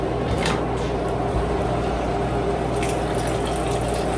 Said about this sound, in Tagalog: Lagyan ko yung tubig to.